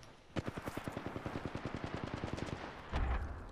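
Rapid automatic gunfire in a video game: a long, evenly spaced burst of loud, close shots, then a heavier boom near the end, with no talking.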